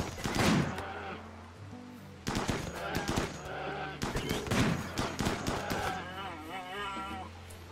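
Rapid bursts of gunfire in a video game as a polar bear is shot, firing in repeated volleys of quick cracks, with someone talking loudly between and over the shots.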